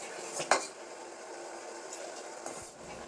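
A pot of sugar syrup for khasta goja is lifted off the heat and covered. A sharp metal clank comes first and a second knock follows near the end, with faint background noise between.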